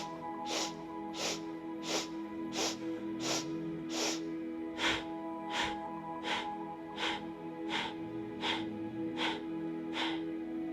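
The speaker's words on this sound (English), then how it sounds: "Notice these are short sniffs in and out." Short, sharp sniffing breaths in and out repeat evenly about once per second in a calming breathing exercise, close and clear, with a steady low hum underneath and no talking.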